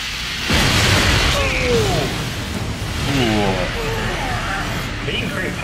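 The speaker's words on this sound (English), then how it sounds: "He can create powerful explosions" Anime explosions from My Hero Academia, Katsuki Bakugo's blasts, come as a sudden loud burst followed by sustained rumbling blasts and whooshes, with voices speaking over the action.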